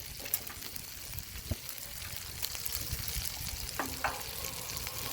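Burger patties sizzle steadily on a Blackstone flat-top griddle, a continuous close frying hiss with occasional scrapes and clicks of a spatula pressing and scraping the hot steel.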